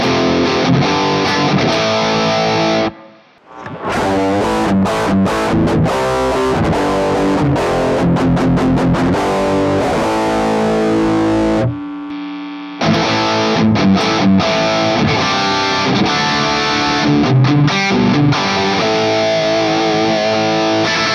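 High-gain distorted electric guitar played through a NUX pedalboard's Amp Academy amp modeller at maximum gain, loud and saturated, with sustained chords and fast chugging riffs broken by a couple of brief pauses.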